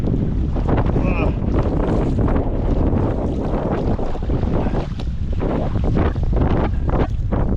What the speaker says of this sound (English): Oh, this wind is brutal